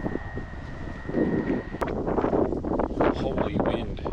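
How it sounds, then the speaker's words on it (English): Strong wind gusts across an outdoor spot beside a Nissan NP300 pickup with its roof rack removed, a steady broadband roar buffeting the microphone that swells after the first second and keeps rushing, with a brief sharp knock partway through. "Holy wind."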